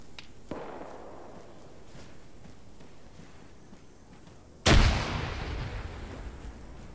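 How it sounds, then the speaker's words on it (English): Incoming RPG rounds in a military video game: a faint distant pop early on, then a sharp loud explosion with a rumbling tail, over a low ambient background. "Taking RPG rounds from the southwest"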